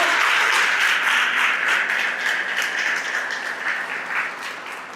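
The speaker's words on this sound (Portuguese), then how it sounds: "Aplaude com força." A church congregation claps loudly at a Portuguese-language worship event, a thick roar of many hands that holds steady and then gradually fades toward the end, with individual claps poking through.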